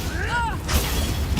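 A Confringo spell fires in Hogwarts Legacy, a loud whooshing blast with a crackling, shattering burst amid busy game effects and music; a voice shouts spell names over the combat.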